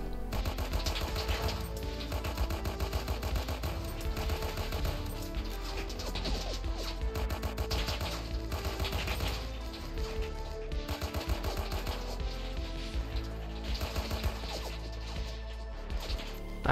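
Automatic rifle fire from an assault-class soldier in the Roblox D-Day battle game, a dense continuous rattle of rapid shots over loud music and battle noise, steady and close throughout.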